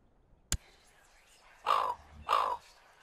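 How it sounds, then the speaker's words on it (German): Two loud, harsh raven caws in the video game Crusader Kings 2, each lasting about a second and spaced apart, after a sharp click, over a quiet background. "dass sie da dieses Krähengeräusch halt reingemacht, Quatsch, das Rabengeräusch reingemacht haben von diesen Raben, die da jetzt nachschauen"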